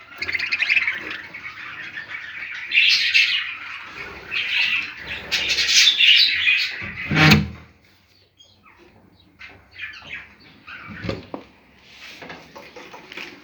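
Busy budgerigar chatter with rapid chirps and warbles, fairly close, continuous for several seconds, then thinning to scattered softer calls.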